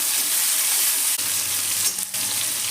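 Sliced star fruit sizzles in hot oil while being stirred in a pan, a steady close hiss with a couple of brief scraping interruptions.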